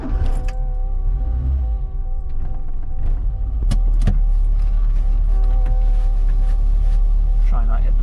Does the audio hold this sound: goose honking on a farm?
no